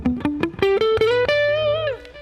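A clean electric guitar with a Boss Metal Zone MT-2 distortion pedal switched off plays a short rising run of picked notes, then a sustained note with vibrato, close and moderately loud, alone.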